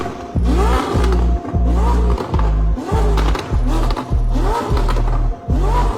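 A Ferrari SF90 sports car revs hard in close, loud repeated bursts, its exhaust throwing fire, each rising rev cut off by crackling pops in a steady pumping rhythm.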